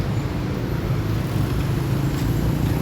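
Steady low rumble of heavy road traffic on EDSA, a dense continuous drone of engines close by with no distinct horns or voices.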